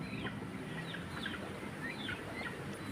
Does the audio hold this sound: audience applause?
no